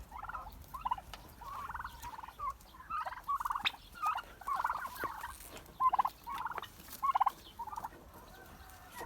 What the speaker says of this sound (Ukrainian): Ось такий от бронзовий індик.